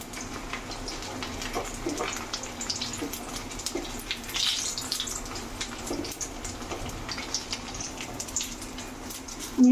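Sago pakoras fry in hot oil, giving a steady, close hiss and bubbling crackle that runs evenly throughout with no voices.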